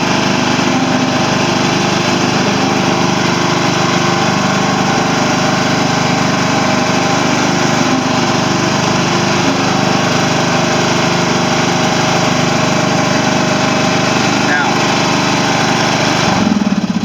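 A riding lawn mower engine roars loud and steady at high throttle, a constant close drone that barely changes across the whole stretch.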